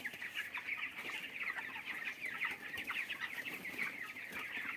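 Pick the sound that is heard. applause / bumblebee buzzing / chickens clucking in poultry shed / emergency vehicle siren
chickens clucking in poultry shed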